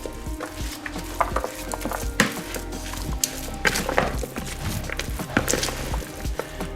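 Burger mixture being mixed with salt and pepper in a bowl, giving repeated wet squelching and scraping stirs with light clicks and knocks against the bowl, close and moderately quiet.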